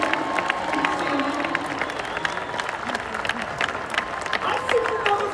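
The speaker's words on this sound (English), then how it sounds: "Let's clap it up for these OGs." A large audience of realtors claps and cheers at a conference event, sustained dense applause with crowd shouts, filling the hall throughout.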